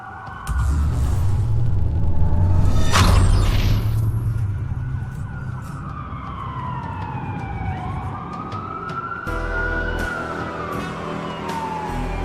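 Wailing police sirens rise and fall in the video game Watch Dogs, loud and sweeping over a rumbling engine and traffic-like background, with a sharp crash-like burst early on.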